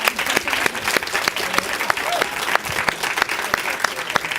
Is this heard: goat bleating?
no